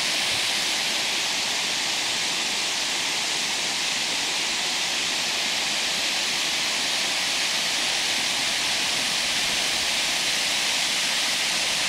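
Water pouring over the Lake 5 Dam, built in the 1930s, on the South Valley Trail in Prince William Forest, a steady loud hiss and rush of falling water that stays constant and close with no talking.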